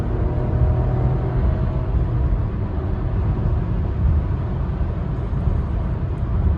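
A 2020 Buick Encore GX accelerates on a transmission kick-down, a steady low engine and road rumble heard from inside the cabin with no clear rise in pitch.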